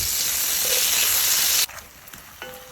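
Tomatoes blistering and simmering in a pan give a loud, steady sizzle close up that cuts off abruptly, leaving faint clinks and soft kitchen sounds.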